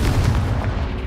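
Dense, loud explosive booms from the Confringo blasting spell in Hogwarts Legacy roll together into a continuous deep rumble for about a second, with no voices over them.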